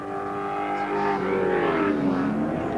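A Commodore race car engine in a 1997 Commodore Cup race at Bathurst, a sustained motor drone with shifting pitch as it works through gears, steady and fairly loud with no talk over it.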